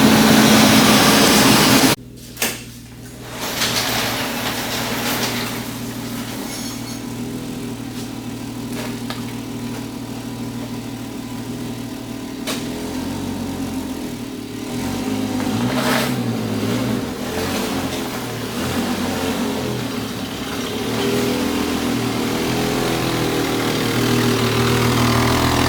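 A Jeep's high-output Renix-era engine catches after a brief crank and settles into a steady, rough idle, running loud and close for the rest of the stretch with a slight rise in revs midway.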